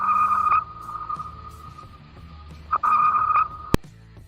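Navy sonar pings underwater, loud tonal beeps in two long pulses separated by a quieter stretch, ending with a sharp click over a low ocean rumble.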